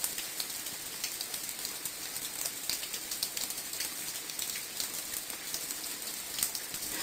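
Rain falls steadily on garden plants, a soft, even patter of many drops on leaves heard close up, constant and fairly quiet throughout with no voices.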